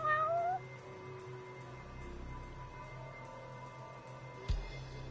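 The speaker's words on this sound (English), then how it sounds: "There's a cat. Oh look, it's a cat." A cat in the video game Judgment (2022) meows once, clear and fairly close, at the very start. Steady game ambience and music follow, with a short thump near the end.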